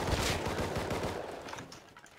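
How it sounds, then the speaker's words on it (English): Rapid pistol gunshots from an M92 in the survival game Rust, a dense close volley of sharp cracks over a couple of seconds, loud and without talk. "I just headshot and double body shot one with the M92"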